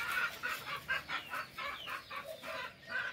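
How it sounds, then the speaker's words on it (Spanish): A rooster and chickens clucking close by at a home in Nicaragua, a rapid rhythmic run of clucks repeating steadily for a few seconds with no talking. "Es el gallo, el papá de los pollitos."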